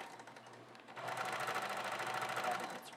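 A Sears Kenmore Limited Edition 100-stitch free arm sewing machine hums quietly at first, then runs faster with a rapid, even needle clatter close by.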